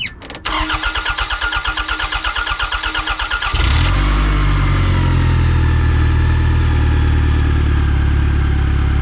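A 1996 Toyota Camry is cranked with the key and fires up: rapid starter churning for about three seconds, then the engine catches and settles into a steady, loud, close idle.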